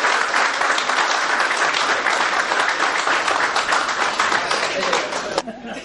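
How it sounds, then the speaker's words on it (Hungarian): Loud, dense applause from the crowd at a Jobbik political rally in Hungary, with sustained clapping that carries on evenly before tapering off abruptly near the end. "A Jobbik rendezvény résztvevőitől nagy tapsot kapott Macsaj Vajda."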